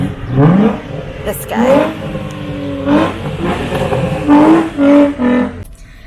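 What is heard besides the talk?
car engine being revved nearby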